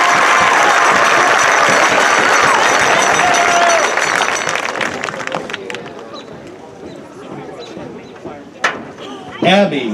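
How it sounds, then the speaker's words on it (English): A crowd at a high school commencement ceremony applauds a row of graduates, loud at first and then fading after about four seconds into scattered claps, murmuring voices and a few whoops. "One more round of applause for this row of graduates"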